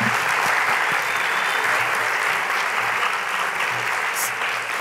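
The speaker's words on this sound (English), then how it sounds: "One more round of applause for group one, everyone." A large literary-event audience applauds readers at a book awards reading held at The New School, with dense, steady clapping that fills the room throughout and faint voices underneath.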